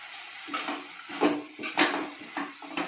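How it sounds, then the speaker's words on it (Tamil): Amaranth greens (arai keerai) sautéed with salt in a pan: soft, irregular scraping and clinking of a spatula against the pan in short repeated strokes, fairly quiet and close. "சால்ட்டு சேர்த்து கொஞ்சம் நல்லா வதக்கி விடுவோம்"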